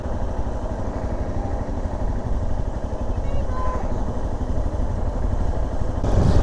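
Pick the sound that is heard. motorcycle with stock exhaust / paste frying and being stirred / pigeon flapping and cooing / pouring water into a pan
motorcycle with stock exhaust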